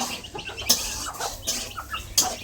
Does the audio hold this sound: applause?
no